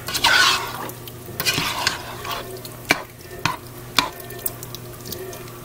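A spoon stirs Hungarian goulash in a pot with scraping swishes and a few sharp knocks against the side, while a low sizzle runs underneath.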